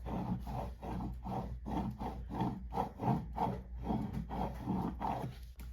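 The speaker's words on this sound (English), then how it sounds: "I'm gonna bring in my scraper and I'll just start from the middle." A scraper rubs back and forth over Cricut transfer tape, making repeated close, scratchy strokes in an uneven rhythm over a low steady hum.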